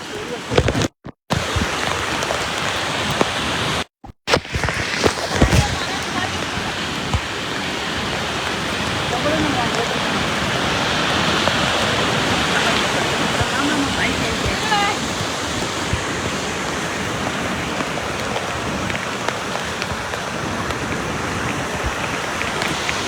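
Heavy rain pours down over Dwarka in the early morning next to the sea, making a dense, continuous roaring wash that stays loud throughout. There are a couple of brief dropouts near the start.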